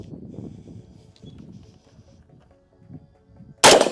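A single sharp, loud rifle shot cracks at the very end during tactical competition training, following several seconds of quiet, indistinct low murmuring.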